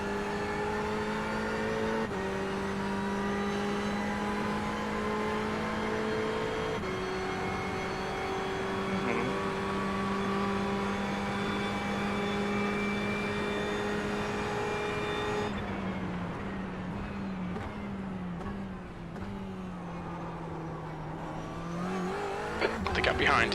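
A race car in a racing video game at Le Mans drones with a loud, sustained engine note that rises and falls through gear shifts and corner exits, running continuously with brief tire squeal near the end.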